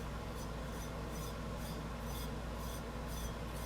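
Glitter is rubbed off a painted tumbler cup, making a steady, close dry rasping rub that pulses in a regular back-and-forth rhythm, with no talking.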